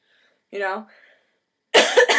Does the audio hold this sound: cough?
yes